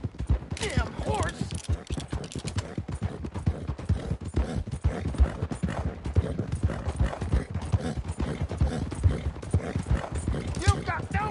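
Horse hooves clip-clop steadily in a PS4 video game, a fast continuous rhythm of close, loud hoof strikes mixed with game sounds, while voices shout over them.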